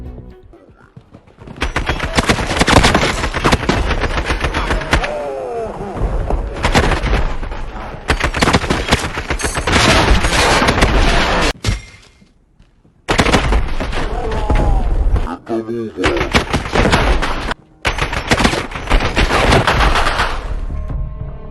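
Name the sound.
gunfire in video game Call of Duty: Modern Warfare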